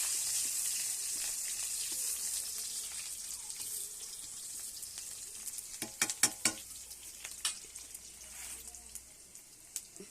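Onions frying in a pan for a potato curry, with a steady hiss of sizzling throughout and a few sharp clinks and stirring scrapes near the end, close and fairly loud with no talking.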